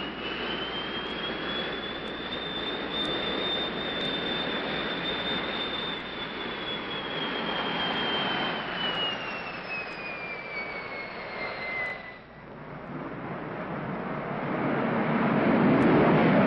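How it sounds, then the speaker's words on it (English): A jet aircraft makes a fly-by with its afterburner lit, a loud sustained roar with a falling whine as it passes, briefly dipping before the rumble swells again up close. "And then we're going to fly by with the afterburner on."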